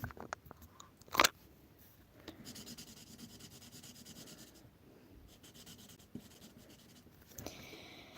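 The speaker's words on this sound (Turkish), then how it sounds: "Tamam kendi ismimi de yazayım." A pen scratches names onto paper up close, soft continuous rubbing strokes with a sharp louder scrape near the start and occasional taps, quiet overall with no talking.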